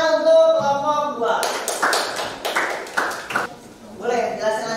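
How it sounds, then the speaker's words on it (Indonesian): Classroom applause for a student group during a physics lesson on static electricity, several seconds of scattered hand claps breaking out in the middle, with a teacher's voice talking before and after. "tepuk tangan untuk kelompok"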